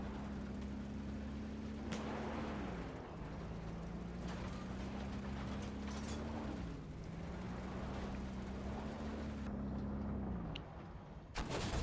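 Armored Warfare tank battle with a Leopard 1: a droning engine rumble that dips and surges, broken by several loud broadband cannon blasts, with a sharp final shot at the end.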